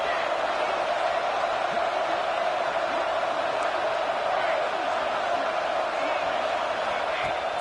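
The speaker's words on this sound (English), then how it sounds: "here comes the noise. This crowd is trying to inspire this defense to make a big red zone stop." Steady roar of a large stadium crowd in a college football video game, dense and continuous, with faint whoops rising out of the wash of noise.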